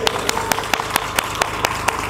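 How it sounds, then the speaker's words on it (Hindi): An audience at a religious talk claps in an even, rhythmic beat, about four crisp claps per second, near and fairly strong over a faint background murmur. "भरपूर तालियां देंगे जोर से"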